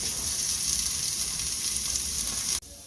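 Garlic and vegetables sizzle steadily in a hot pan for a keto spaghetti sauce, a loud, continuous frying hiss that runs unbroken and then cuts off abruptly near the end.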